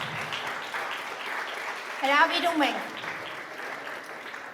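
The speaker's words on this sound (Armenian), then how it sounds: "ձեր ամենաբուռն ծափերի ներքո" An audience applauds at a mental arithmetic olympiad ceremony, a soft bed of clapping that swells briefly partway through while a presenter keeps speaking over it.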